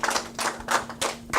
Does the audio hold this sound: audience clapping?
yes